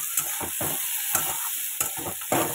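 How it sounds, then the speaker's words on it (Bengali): Okra and potato fry lightly in a pan, a soft sizzle broken by several short scraping bursts of stirring, with a thin steady whine running behind. "ভেন্ডিটাকে হালকা করে একটু ভেজে নেব।"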